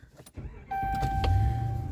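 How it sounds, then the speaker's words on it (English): A 2012 Ram 1500 truck engine starts and settles into a steady, loud idle hum after a short stretch of quieter cabin noise, with a thin electronic tone running over the top. "now the truck is running"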